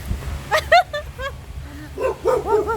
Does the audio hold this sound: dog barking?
yes